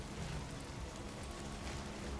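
Rain falls in a steady, soft wash of noise in the video game Path of Exile, faint and continuous with no voices over it.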